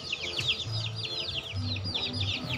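Newly hatched chicks peeping in rapid, high, overlapping chirps close by, with a hen's low clucks underneath.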